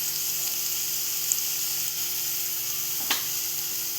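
Asafoetida and turmeric sizzling in hot oil in a pan for a Maharashtrian vegetable dish, a steady close hiss with a brief crackle near the end.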